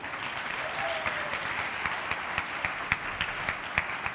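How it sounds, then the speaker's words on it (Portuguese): A steady round of applause from a crowd keeps a constant level throughout, with individual claps popping out here and there. "Salva de palmas para ele."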